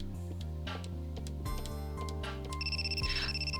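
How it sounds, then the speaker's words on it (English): A telephone rings in Super Robot Wars Z2, its electronic warble entering late and sitting over steady game music and drum beats. "Suddenly, phone call from Shirley's roommate"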